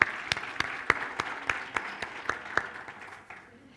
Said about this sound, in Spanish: Así que también un gran aplauso.